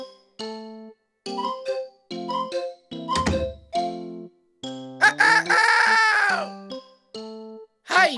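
A voice imitates a rooster's crow: a long, rising, harmonic cock-a-doodle-doo among other toy-like tonal sounds, with a thump midway, in a children's animal-sounds cartoon.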